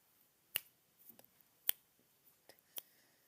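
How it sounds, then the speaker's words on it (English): Finger snaps, four crisp isolated clicks spaced about a second apart in a quiet room, close and sharp with faint rustling between. "I may snap my fingers like"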